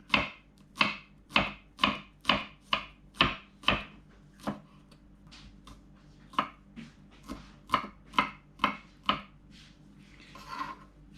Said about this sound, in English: Just chop it like this.